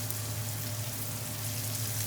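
Salmon fillet searing in a hot pan over a high flame for an Indian-style salmon curry, giving a steady, dense sizzle with a low hum beneath, close and continuous, with no talking.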